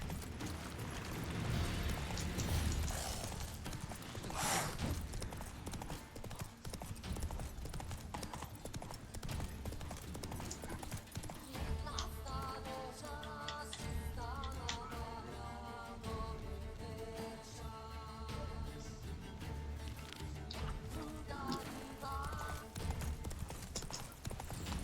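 Roach, the horse in The Witcher 3, trots along with a steady, prominent clip-clop of hooves over a game soundscape, joined by a short whinny and layered background sounds; no voices talk over it.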